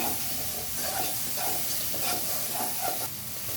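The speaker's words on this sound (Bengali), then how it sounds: "দিয়ে ভালো করে মশলাটা কষে নেব।" Spice masala with salt for palak paneer fries in hot oil, giving a continuous close sizzle and hiss with faint stirring scrapes throughout.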